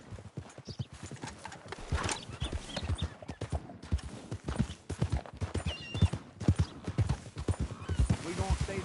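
Horse hooves clip-clop steadily in Red Dead Redemption 2, a continuous walking rhythm of close, moderately loud hoof strikes running under conversation between riders.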